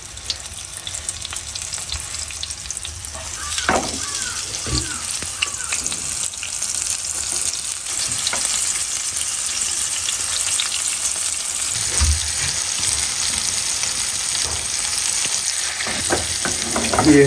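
Food deep frying in a large amount of hot oil, a loud, dense, continuous bubbling sizzle held close up for a long stretch, with a few clunks and scrapes of stirring near the start.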